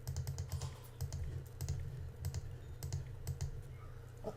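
Rapid, uneven clicks of a computer keyboard being typed on, faint and close, running steadily over a low hum with no voices.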